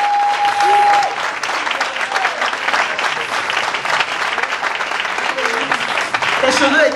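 A church congregation bursts into sustained, loud applause during a worship service of praise and testimony, dense clapping filling the room throughout, with voices rising and cheering over it.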